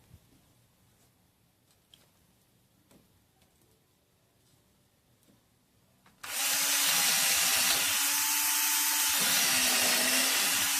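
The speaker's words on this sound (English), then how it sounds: "first I'm drilling through" After several seconds of quiet small taps, a power drill starts abruptly and grinds loudly and steadily through wood while building a balcony, until the end.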